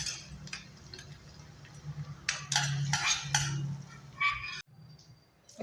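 A spoon mixes tempering into curd semiya in a bowl, giving soft wet stirring sounds and light clinks of metal against the bowl, close and fairly quiet, with a short pause near the end.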